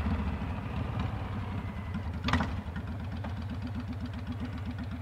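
A Honda VTX 1300 motorcycle engine idling while running cold, a close, steady, loping rumble with an even pulsing beat throughout.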